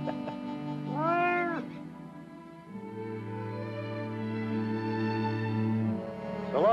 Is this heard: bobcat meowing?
yes